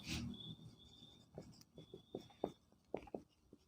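Writing on a board during a physics lecture, a string of faint, close taps and short strokes in an irregular rhythm, with a quiet high whine in the background and no talk.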